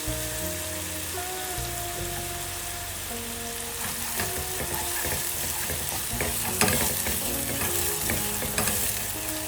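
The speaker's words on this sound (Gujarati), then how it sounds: "હવે એને ગોલ્ડન બ્રાઉન થતા સુધી સાતળીશું. લીલા મરચાં બી નાખી દઈશું આપણે." Chopped onions and green chillies sizzle steadily in hot oil in a pan for an Indian urad dal, a continuous crackling fry that grows slightly louder and busier partway through, with faint tonal background music underneath and no talking.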